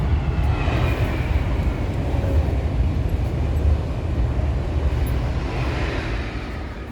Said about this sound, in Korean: 네 기차가 또 지나갔습니다.